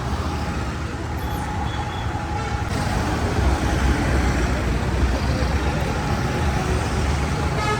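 Tata 1822 LPO coach bus being maneuvered into place at a night delivery, a continuous deep engine rumble with traffic-like noise that grows slightly louder partway through, with no one speaking.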